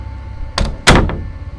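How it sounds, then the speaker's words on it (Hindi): A door swings shut with a soft bump, then a louder, solid thunk as it closes firmly, followed by a faint rattle, close by in an otherwise quiet room. "दिवे दरवाजा बंद करके"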